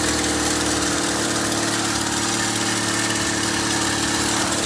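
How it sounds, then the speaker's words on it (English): A Porsche 924 engine idles at a high, steady speed, loud and close. A continuous dense mechanical drone runs without letup. "It's idling very high."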